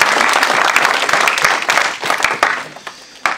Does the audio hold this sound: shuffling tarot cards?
no